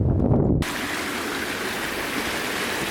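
A small cascade on a woodland stream, a steady broadband rush of falling water heard close and continuous after a brief burst of louder, lower noise at the start.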